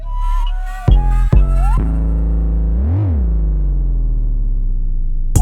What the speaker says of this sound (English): somebody's car is going off outside